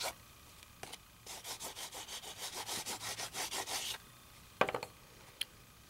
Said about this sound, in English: Just brushing that ink straight over the top